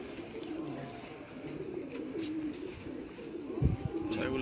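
Lakha pigeons, a breed kept by pigeon fanciers, coo in low, soft repeated phrases close by, with faint bird chirps and background noise around them.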